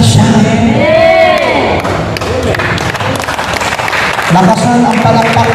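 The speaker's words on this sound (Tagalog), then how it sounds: "Lakasan ang palakpak kay El Shaddai." A church congregation at a prayer service claps loudly, with voices calling and singing over the applause and a few thumps mixed into the clapping.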